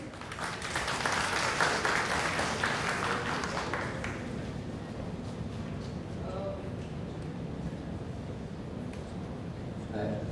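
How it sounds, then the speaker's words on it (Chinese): An audience at the 2015 Hakka Tung Blossom Festival opening press conference claps to welcome a performer; loud applause for about four seconds, then tapering into a softer murmur with voices. "掌声欢迎"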